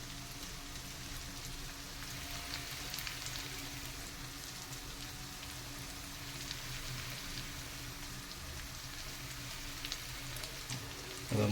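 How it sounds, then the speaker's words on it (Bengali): Cumin, coriander, dried chilli, bay leaf and garam masala fry in hot oil for a chicken curry, giving a soft, steady sizzle and crackle like light rain, faint and unbroken, with no voices. "এবার মশলাটাকে ভালো করে কষিয়ে নেব।"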